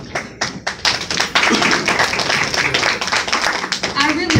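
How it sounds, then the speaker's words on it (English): People at a fundraiser clap, starting with a few scattered sharp claps that build into steady, close, fairly loud applause, with voices mixed in underneath. "I really like when people clap."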